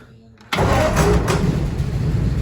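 A 1947 Ford engine with an untuned carburetor cranks and catches at about half a second, then runs loud and rough close by for the rest of the moment, with a voice speaking over it.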